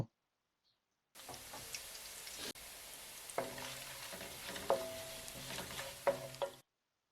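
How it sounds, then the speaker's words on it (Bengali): Chopped garlic frying in hot oil with cinnamon and bay leaves for a duck curry, a continuous close sizzle that starts abruptly and carries occasional stirring scrapes and clicks before cutting off. "দশ সেকেন্ড ভাজার পর আমরা রসুন কুচি দিয়ে রসুনে কালার হওয়া পর্যন্ত ভেজে নেব"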